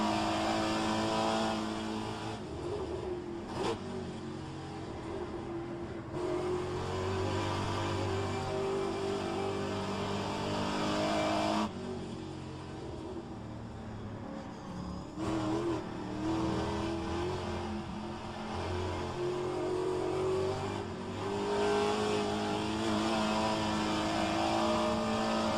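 A Pontiac race car's engine drones steadily in second gear around the Road Atlanta circuit, a sustained loud hum with shifting pitch and brief dips as the revs change.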